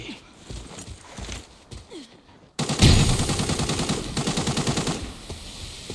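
A bot opens fire in the Arena Breakout shooter game, with sparse shots followed by a loud, close burst of rapid automatic gunfire that rattles on for several seconds.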